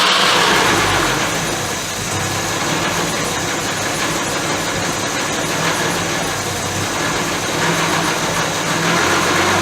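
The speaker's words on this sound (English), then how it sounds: "I have a little fettling of the carburetors. I've got it to idle at least." A 1963 Jaguar E-Type engine idles steadily after carburetor adjustment, a close, continuous mid-pitched rumble with slight uneven pulsing throughout.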